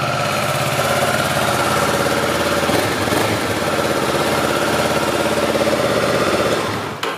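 A low-mileage 2015 Kawasaki Ninja 650 ABS motorcycle engine idling steadily, a close, loud and even purr that holds constant for several seconds before cutting off at the end.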